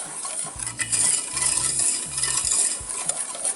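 A wire whisk beating breakfast gravy in a pan on an unlit burner, fast repeated metallic scraping and tapping against the pan, close and loud with a steady rhythm.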